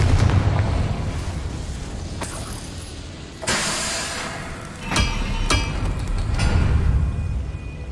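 Confringo fire spell explosions in Hogwarts Legacy: several sharp bursts over a rumbling background, each followed by a crackling roar, with no talk.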